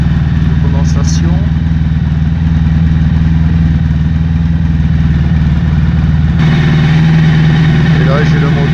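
A Honda ST 1100 Pan European motorcycle engine, already hot, idles loudly and steadily close by, its low rapid chug continuous throughout, with a brief voice under the engine noise.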